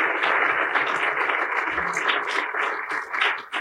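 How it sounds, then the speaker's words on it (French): An audience applauds after a science talk on fireballs at a French astronomy event, giving sustained, fairly loud clapping from a room full of listeners with a few scattered louder claps. "on peut vous applaudir, Brigitte, Sylvie et Sylvain."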